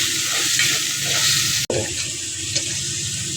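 Boiled chana dal being stirred into oil with fried chili and garlic in a pan, wet scraping and sloshing with a soft frying hiss throughout and one sharp knock near the middle, no voices.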